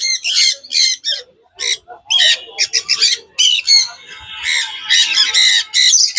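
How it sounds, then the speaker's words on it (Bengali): A Red Malaccan lory parrot of about two years old at the Baguiati pet bird market in Kolkata lets out a string of loud, close, harsh squawks in quick irregular bursts with short gaps between them. "রেড মালাক্কান লরি, এটা এই 2 বছরের কাছাকাছি বয়স আছে"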